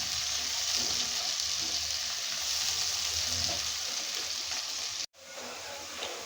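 Chopped onion frying in hot oil while being stirred for a potato and fish bhuna, a steady loud sizzle with faint scraping, broken by a brief cut near the end before the sizzling resumes.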